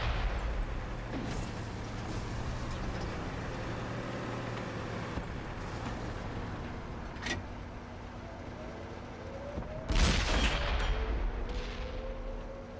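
Tank cannons fire during a World of Tanks console match with a T28 HTC. Occasional booming shots sound over a constant engine rumble, with one loud close blast near the end.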